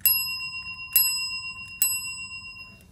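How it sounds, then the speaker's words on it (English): Three crisp rings of a new bicycle bell, each bright metallic ding decaying slowly, evenly spaced about a second apart, close and clear over a quiet room. "that's my new bell"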